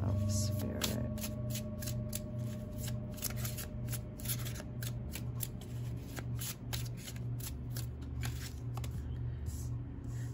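Tarot cards from a Shadow Work deck being shuffled by hand, a steady run of soft papery riffles and flicks lasting several seconds over a low constant hum, with a voice talking faintly at times.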